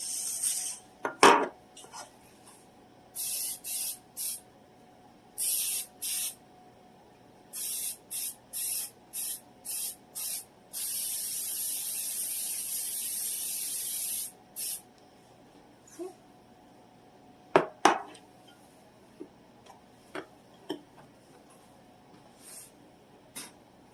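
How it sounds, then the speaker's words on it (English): Repeated short hissing bursts of an aerosol baking spray into cake pans, then one long spray, with occasional clinks of the metal pans nearby. "And make sure you spray them really good."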